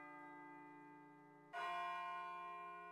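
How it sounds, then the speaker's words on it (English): A deep bell tolls in the video game Persona 3, a rich sustained ringing that swells into a fresh louder strike halfway through and then slowly decays, with no voices. "It sounds like a bell, but where's it coming from?"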